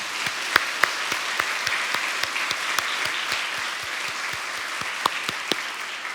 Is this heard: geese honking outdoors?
no